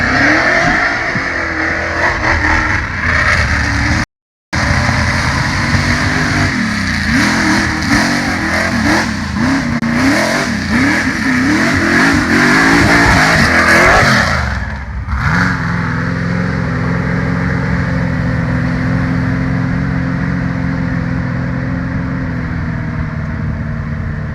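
An off-road racing vehicle climbing a hill at Rush Offroad, its engine revving hard and loud in surging, wavering bursts, cutting out briefly, then settling into a steadier drone after the climb.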